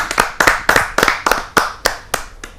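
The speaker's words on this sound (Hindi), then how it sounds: "आप सबकी जोरदार तालियों के" Clapping at a Hindi poetry gathering (kavi sammelan), a close, sharp series of about nine distinct claps in a loose rhythm, heard alone without talk.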